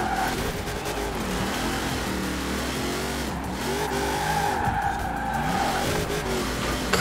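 Car tires squeal and skid without grip in Forza Horizon 4, a loud continuous screech over a wavering engine note that rises and falls as the car slides through corners.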